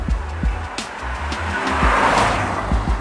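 A car travelling at 80 km/h enters a fast curve, with a steady engine drone, road and tyre noise, and a rising rush of wind as it loads into the bend. No one talks.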